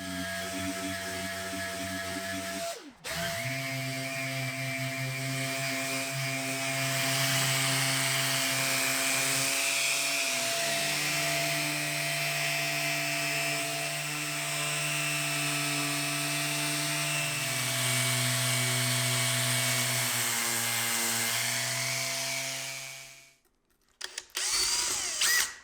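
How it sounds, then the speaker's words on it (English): A power sander with a fine sanding disc runs over a portable Bluetooth speaker enclosure, making a steady droning whine whose pitch shifts several times. It stops briefly near the start and cuts off near the end. "With a fine sanding disc, I go over the whole speaker to remove any burrs and leave the surface smooth"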